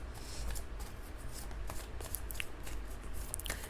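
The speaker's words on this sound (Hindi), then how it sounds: "जब तक मैं कार्ड शफल कर रही हूँ" Tarot cards are shuffled by hand in soft, close riffles and slides, a quiet papery rustle with small clicks, with no voice present.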